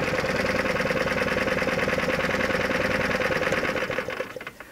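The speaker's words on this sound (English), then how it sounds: "all you have to do is twist this key and it's going to start right up for you" A 9 hp rental go-kart engine with electric start idles steadily and close by, a dense rapid chugging that runs throughout and then begins to drop away near the end.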